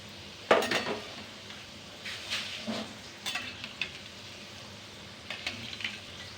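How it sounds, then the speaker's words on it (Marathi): Modak dumplings fry in oil with a faint, steady sizzle, broken by occasional clinks and scrapes of a utensil against the pan. "हे पहा आपले मोदक कसे मस्त फ्राय झालेले आहेत"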